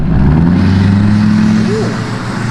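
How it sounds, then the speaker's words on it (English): A big-turbo Ford Focus RS accelerates past, a loud, steady engine drone with a rising pitch, heard close up. "the RS is freaking zooming"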